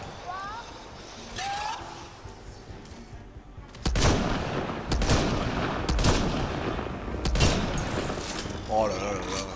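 Gunfire in Mass Effect Andromeda combat: after a quieter stretch with a voice, several loud, sharp shots and short bursts crack out at uneven intervals. Talk is heard around them.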